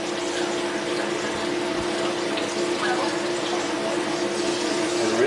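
Water rushes and splashes steadily while an SSV wand is rinsed out with water and a drop of dish soap, a continuous close wash of flowing liquid with no pauses.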